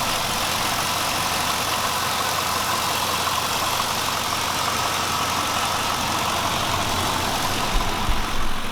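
Pontiac Firehawk Trans Am with an LS V8 and about 98,000 miles, its engine idling steadily with a low, even rumble close by and no talk over it.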